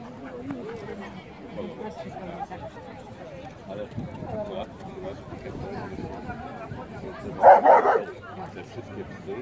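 Dogs barking at an international pedigree dog show, with a burst of close, sharp barks rising above a constant background of crowd chatter and people talking nearby.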